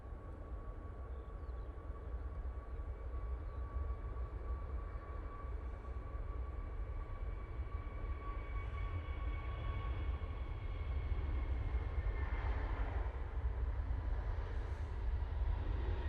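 A Jet2 plane lands at Manchester Airport, heard from a distance as a broad, steady jet rumble that swells slightly toward the end, with no voices over it.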